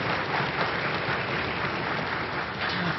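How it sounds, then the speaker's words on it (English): Audience at a spring 5th and 6th grade school concert applauding, with steady, dense clapping from a large crowd that holds at an even level throughout. "So if we could give a big round of applause to your parents."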